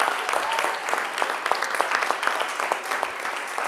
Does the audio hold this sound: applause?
yes